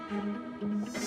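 A mosquito gives a thin, close, whining buzz that wavers slightly in pitch and carries on unbroken for about a second on its own.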